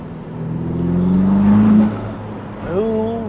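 A Ferrari SF90 Spider accelerates hard, its engine note rising loudly, then a turbo blow-off breaks the pull before the revs climb again, heard from inside the car with a voice speaking over it.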